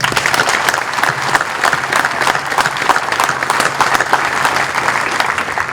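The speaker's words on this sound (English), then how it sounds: "let's give them a round of applause" Sustained audience applause at a military graduation ceremony for the 1st Regiment Advanced Camp, honoring the band; dense, even clapping from a large crowd continues steadily throughout without a break.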